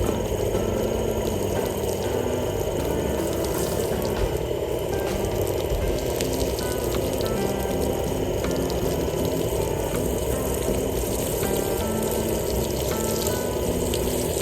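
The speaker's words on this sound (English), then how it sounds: "And let me water this down." Water pours steadily over freshly planted garden plants, making a continuous splashing, spraying wash that stays close and fairly loud throughout with no voices.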